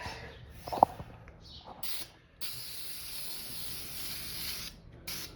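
Light coat of primer sprayed from an aerosol onto a Mopar 4.7 HO V8 engine block: a short hissing burst, a sustained spray of about two seconds, then another brief burst, close and moderately loud, with quiet shop sounds between.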